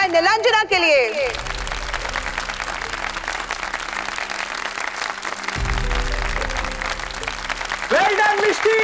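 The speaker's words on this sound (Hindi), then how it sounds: "जोरदार तालियां हो जाए नीलांजना के लिए।" Loud, sustained audience applause for the first-prize winner of a dance competition on a TV show, continuous crowd clapping with brief voices and music at the edges.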